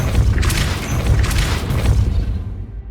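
The Depulso spell is cast in the video game Hogwarts Legacy, producing a loud, sustained booming whoosh that holds for nearly three seconds before fading out, with no talking over it.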